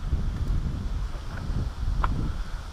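Wind gusts buffet the microphone at a carp fishing spot, a low, steady rumbling roar with no talking.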